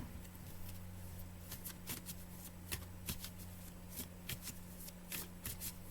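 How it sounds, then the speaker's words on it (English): Tarot cards being shuffled by hand, a continuous run of soft riffling and flicking slaps that lasts throughout, close but quiet, over a low steady hum with no talking. "let's pull some more cards."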